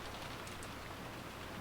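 Steady, soft rain falling outside, a continuous even hiss of drops with no pauses, faint and unbroken for the whole stretch.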